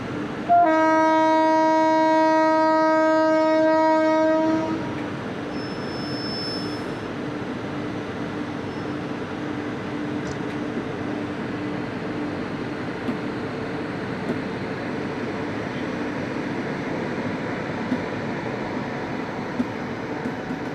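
Kaveri Express arriving with a sustained loud horn blast lasting about five seconds, then a steady rumble of the ICF coaches with CBC couplers rolling past, alone without talk.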